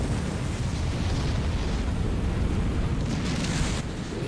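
An anime Beyblade special attack erupts in a sustained, roaring explosive blast. It is loud, dense and continuous throughout, like a rumbling detonation that swells without a break.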